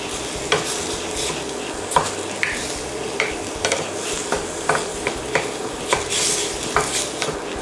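A block of curry paste sizzles in a hot pan while a utensil stirs and mashes it, sharp scraping clicks recurring every second or so over a steady frying hiss, with no talking.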